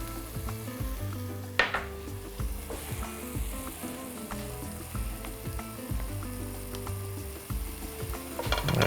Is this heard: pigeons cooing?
no